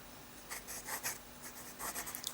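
A wet fountain pen with Noodler's Apache Sunset ink writing on paper gives faint, soft scratchy strokes in short bursts, close and quiet, with no voices.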